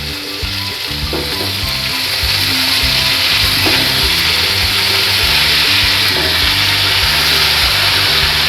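Beans and potato pieces fry with onion in a pan for a spicy beans-aloo masala fry, giving a loud, steady sizzle throughout with occasional scrapes of a stirring utensil.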